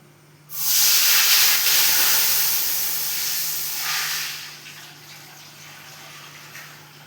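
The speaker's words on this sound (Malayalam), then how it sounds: "ഇനി ഞാൻ ഇതിലേക്ക് അളന്ന് ഒഴിച്ച് വെള്ളം ഒഴിച്ച് കൊടുക്കട്ടെ" Water poured into a hot cooking pot over sautéed onions for ghee rice, a loud steaming hiss that bursts in sharply, holds for several seconds, then swells again briefly before fading to a low simmer.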